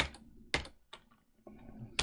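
Keys clacking on a computer keyboard in a short, quiet burst of separate strokes with pauses between them, close by and alone.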